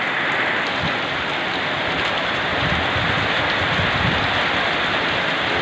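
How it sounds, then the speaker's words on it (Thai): Dense, steady rain pours down under trees with a continuous loud hiss of drops hitting surfaces nearby, with no pauses. "อันนี้ฝนก็เริ่มลงเม็ดหนาแล้วนะครับ"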